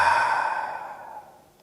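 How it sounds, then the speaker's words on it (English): One slow, breathy exhale through the mouth during a yoga session, close and soft, fading out over about a second and a half with a faint tonal edge. "Exhale out your mouth."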